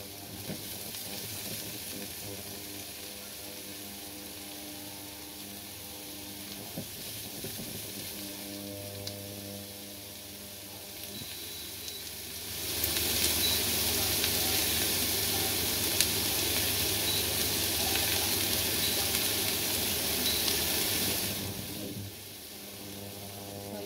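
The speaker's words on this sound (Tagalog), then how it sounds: "Ganyan muna siya, wag mo munang haluin para maprito po yung ampalaya." Bitter gourd (ampalaya) fries undisturbed in a pan for a pork lechon dish, with a steady close hiss and sizzle that grows louder for a stretch partway through before easing back.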